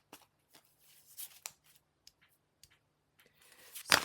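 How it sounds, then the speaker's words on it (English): Oracle cards are shuffled by hand in quick, soft riffling bursts with brief pauses between them, ending in a louder final flurry, close and quiet with no talking. "let's pull your oracle cards"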